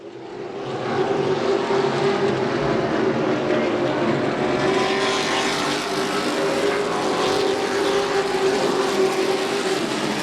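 Pro Truck Series race trucks roar around the track in single file, including the number 13 truck, a loud, sustained engine drone from the pack passing continuously with steady high-revving whine.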